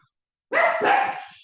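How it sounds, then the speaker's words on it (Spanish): Small pet dogs bark in a burst of overlapping yaps, fairly close and loud, beginning after a moment of silence and trailing off. "pueden escuchar a mis perritos"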